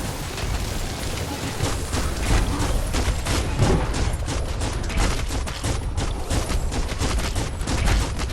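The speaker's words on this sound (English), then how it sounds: "Bullets everywhere." Gunfire from the video game Biomutant, a dense, continuous barrage of rapid shots and bursts rattling for several seconds with no voices.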